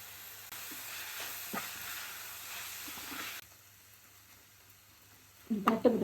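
Tomatoes and onions frying with turmeric powder in a pan for prawn thokku give a steady, close sizzle that drops away suddenly partway through, leaving quiet until a few brief clinks and scrapes at the end.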